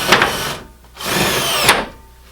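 Power drill driving screws into heavy-duty shelf brackets mounted on metal standards, two loud whirring bursts close by with a short pause between them.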